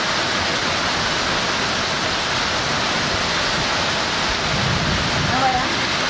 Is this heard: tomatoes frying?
no